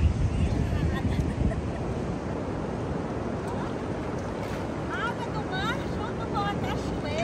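Atlantic ocean waves crash on Iporanga beach in Guarujá in a continuous loud roar mixed with wind buffeting the microphone, and a voice speaks briefly over it toward the end.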